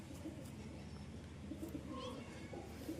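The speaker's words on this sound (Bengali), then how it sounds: "এটাও মাদি কবুতর" A female pigeon coos softly in low, repeated throaty notes amid a quiet, steady background hum, with faint chirps here and there.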